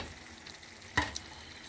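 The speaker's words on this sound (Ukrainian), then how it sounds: "вода підкипіла, рис у мене на сильному вогні кипить" Rice for Uzbek plov boiling hard over high heat in water, a soft steady bubbling hiss with one sharp crackle near the middle.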